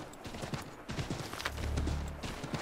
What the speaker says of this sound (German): Schnelles Galoppieren kostet das Pferd viel Ausdauer